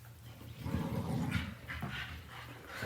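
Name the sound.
two dogs making noise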